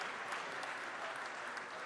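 A hall full of delegates at a Giovani Democratici congress gives a sustained round of applause, even and unbroken clapping heard from some distance, with no voices over it.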